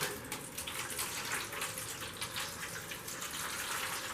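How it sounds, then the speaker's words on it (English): Water poured steadily into a seed starting tray, a continuous close splashing gush with no pauses and no talk. "enough water to cover the tray, you know, so it's sitting in the water"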